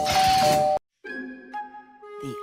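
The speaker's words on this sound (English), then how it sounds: "Real guests always ring the bell." A cartoon doorbell gives a clear two-tone ding-dong chime with a ringing tail, heard alone right after a burst of noisy sound and a brief silence.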